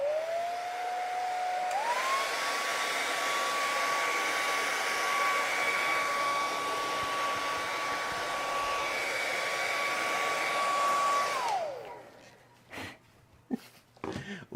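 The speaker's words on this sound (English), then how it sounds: "I'm gonna get my hairdryer." A hair dryer blows steadily and loudly for about eleven seconds with a whining tone that rises once near the start, then cuts off, leaving a few scattered handling sounds.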